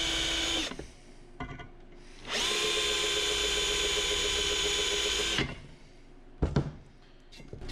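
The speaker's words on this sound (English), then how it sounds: "I'm going to drill my pilot holes" A power drill boring pilot holes in steel whines steadily for about three seconds, with shorter drill bursts and clunks before and after, close and loud, no talking.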